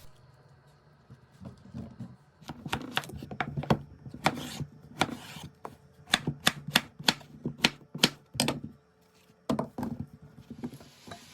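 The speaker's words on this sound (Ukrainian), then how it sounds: "Кабачок ріжу на 4-5 частин і нарізаю кубиком." Quick knife chops dicing zucchini on a cutting board, a rapid run of sharp taps in uneven bursts with short pauses, close by and fairly loud.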